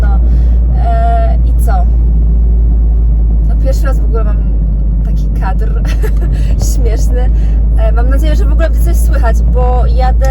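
A loud, deep engine drone fills the cabin of a moving car, steady and rumbling, while a person talks over it.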